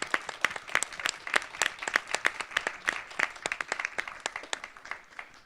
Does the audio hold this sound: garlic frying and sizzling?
no